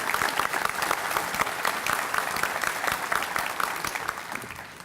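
Audience at a May 2018 breakfast event gives a sustained round of applause, dense steady clapping from a large crowd that fades slightly toward the end.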